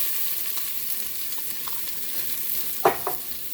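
Onion frying in heated olive oil in a pot, a steady hissing sizzle throughout with faint stirring clicks and a brief louder scrape near the end, close and alone without talk.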